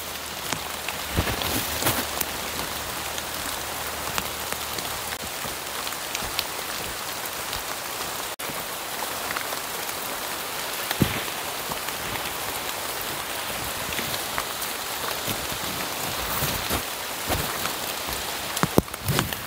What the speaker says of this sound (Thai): ได้เยอะแต่ฝนมันตกมา